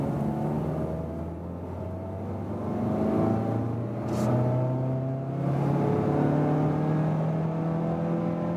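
A Mazda CX-30 with a manual gearbox accelerates hard in second gear, its engine note climbing steadily in pitch under constant road and wind roar from inside the cabin, with no talk.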